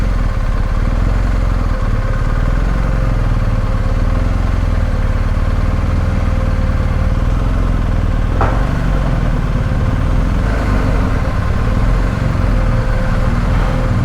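A motorcycle engine idles with a constant, loud, close rumble that holds unbroken throughout, and no one speaks.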